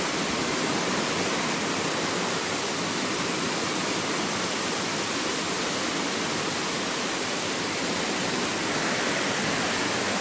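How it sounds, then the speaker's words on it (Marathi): A dense, steady roar of heavy night rain pours down on a balcony without pause, loud and close, with no voices over it. "पाऊस पडायला लागला आहे"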